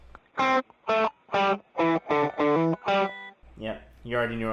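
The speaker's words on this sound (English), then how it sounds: "and then you can do the bit crusher by itself." Electric guitar run through a bit crusher effect alone, giving a gritty, digitized tone: seven evenly spaced, loud chopped notes or chords in a steady rhythm, followed by a brief, quieter sustained phrase at the end.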